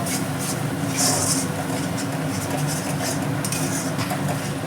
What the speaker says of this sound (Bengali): এবার আমি মশলাটা ভালো করে নেড়ে নেবো